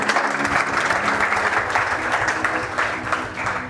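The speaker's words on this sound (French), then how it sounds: "Acclamez d'abord le Seigneur pour vous-même." A church congregation applauding to acclaim the Lord, producing steady, loud, dense clapping from many hands that carries on throughout, with no break and no speech above it.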